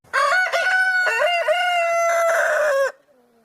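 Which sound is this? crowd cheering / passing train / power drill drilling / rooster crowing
rooster crowing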